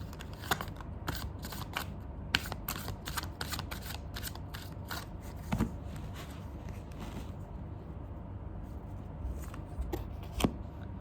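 Tarot cards are shuffled by hand in quick crisp bursts of riffling and snapping, close by and repeated over several seconds.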